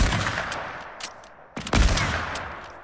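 Rifle fire in Fortnite, sharp close shots in uneven bursts with a short lull before a louder volley, and no talking.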